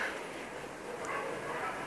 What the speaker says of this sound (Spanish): los perros me tienen podrido ya con los ladridos